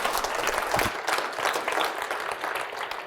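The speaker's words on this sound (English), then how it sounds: "Give him a round of applause." Conference audience applauding a speaker, a dense patter of many hands clapping at moderate distance, continuous for a few seconds without talk.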